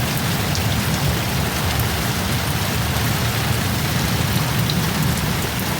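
Steady, heavy rain from a storm pours down without a break, a dense wash of drops hitting surfaces close by, with no voices.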